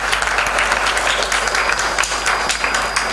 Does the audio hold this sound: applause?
yes